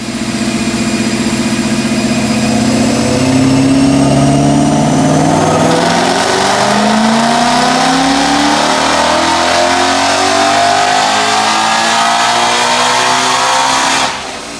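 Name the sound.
Ford Mustang GT with Whipple supercharger revving on dyno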